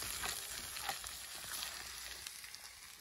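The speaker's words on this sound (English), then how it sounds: "We'll just fry that off for a little bit." Curry paste and tomato base mix frying in oil in an outdoor camp pan, a quiet, steady sizzle and crackle with faint stirring, no voices.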